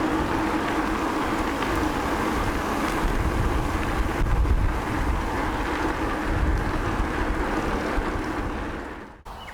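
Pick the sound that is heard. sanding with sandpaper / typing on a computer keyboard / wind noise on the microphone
wind noise on the microphone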